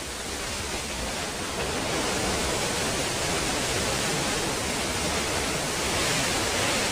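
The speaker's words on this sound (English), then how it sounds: "Look at that waterfall." Harvalem waterfall in Goa roars as a steady, dense broadband rush of falling water, loud and unbroken throughout, with no voices.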